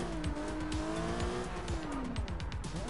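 Cars in a chase in Sleeping Dogs: loud, steady engine drone with wavering pitch and repeated tire squeals, close and continuous for the whole stretch, no talking.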